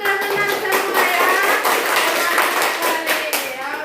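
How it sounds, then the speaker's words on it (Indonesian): Students in a classroom clap for a group that has just presented, giving a few seconds of uneven, rhythmic handclaps, with a voice talking over them. "Iya, tepuk tangan"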